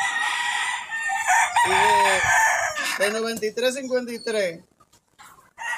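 A rooster crows loudly and repeatedly among clucking chickens at a backyard breeding coop where a young pullet is handed over as a gift, with someone speaking over the birds.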